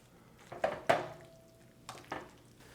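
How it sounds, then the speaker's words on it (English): Fresh pasta with torn basil being stirred in a pot or bowl, a few soft clinks and scrapes of a utensil against the dish, quiet and close with pauses between strokes. "give it a big stir to mix everything around"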